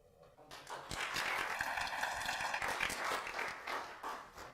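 Audience applause at a security workshop on cyber-physical systems, clapping swelling quickly after a quiet start and continuing steadily, moderately distant and fairly faint.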